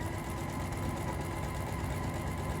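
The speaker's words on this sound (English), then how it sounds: "I'm going to sew a 1/4 inch all the way around the top." A sewing machine running steadily as it stitches a quarter-inch seam around the top of a drawstring pouch, a close, continuous mechanical hum with fast even needle rhythm.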